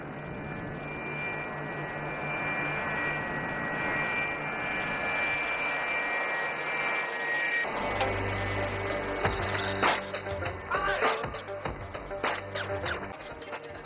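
A HAL Light Utility Helicopter, a 3-ton class utility helicopter, flies a display at an air show, with a steady turbine and rotor roar throughout that grows rougher and more pulsing midway as it manoeuvres nearby.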